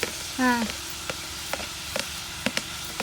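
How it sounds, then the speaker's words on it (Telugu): Tomatoes dropped into a bitter gourd curry frying in a pan, a traditional village dish. A soft sizzle runs throughout with scattered stirring clicks and knocks, and a brief voice sound is heard near the start. "టమాటాలు వేస్తా"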